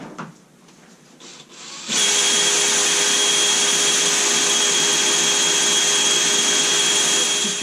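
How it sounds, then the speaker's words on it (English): A power drill bores holes in the carry-all of a Kubota B2601 compact tractor. After a few quiet handling knocks it starts up and runs as a loud, steady high whine until the end. "I'm going to drill some holes and put some of those hooks in"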